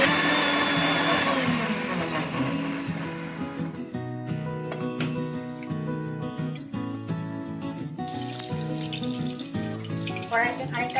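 An electric grinder whirs while making a paste with salt for potol kofta curry, a loud continuous motor drone that shifts into a whining, humming tone as it runs on for several seconds close by.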